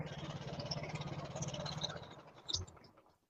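A vintage four-stroke snowmobile engine idles smoothly, a steady low rumble with light mechanical clatter, close and moderately quiet, ending with a brief knock before fading.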